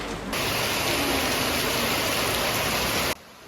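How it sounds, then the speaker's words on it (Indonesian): Continuous heavy rain falling during a flood emergency at Srigading, Bantul, a dense steady hiss that starts abruptly and cuts off near the end, loud and without speech. "Ditambah dengan hujan yang turun secara terus-menerus."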